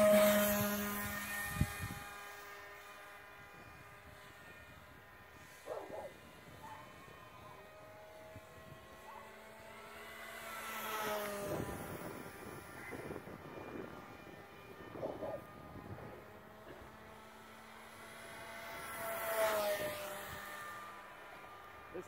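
An electric-motor Sky Surfer 1400mm RC plane with a Rimfire 1250 kV motor takes off outdoors: the motor whines in rising and falling surges as the plane passes overhead, faint against the open air.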